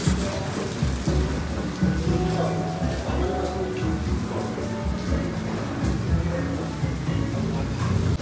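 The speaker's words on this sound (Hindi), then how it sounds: "बारिश बहुत ही तेज हो रही है।" Heavy rain pours steadily on Mussoorie's Mall Road, a dense continuous hiss with a low rumbling undertone, with a voice faintly audible beneath it.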